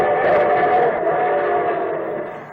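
A train sound effect on an old radio broadcast rumbles loud and steady, a dense continuous roar of rolling railcars that fades slightly toward the end, with no voices over it.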